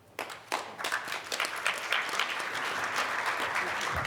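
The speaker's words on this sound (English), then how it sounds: "Give a nice round of applause for our panelists." A summit audience applauds its panelists, a few sharp early claps quickly swelling into a steady, full round of clapping that continues to the end.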